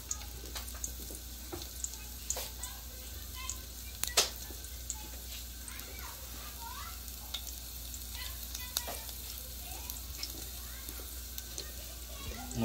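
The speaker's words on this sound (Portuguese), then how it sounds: "Olha como é bonitinho o alho fritando." Soft, quiet sizzling of garlic frying in a pan, with occasional scrapes and clicks of stirring, low and close throughout.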